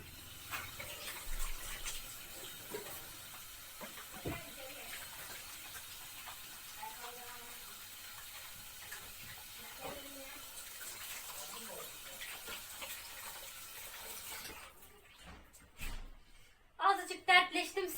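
Hands washed under a running kitchen tap while oven-baked köfte is being prepared, a steady rushing hiss of water lasting throughout, with a voice talking over it and a few brief clatters near the end.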